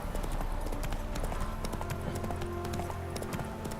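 Horse galloping in Witcher 3, steady clip-clop hoofbeats at a quick even rhythm over a game soundscape, fairly close and clear.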